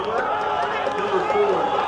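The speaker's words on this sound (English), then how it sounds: "Decent sized crowd here tonight as people start to gather." Crowd filing into a hockey arena for a college game, a steady low murmur of many voices with faint scattered claps, heard under a commentator talking close by.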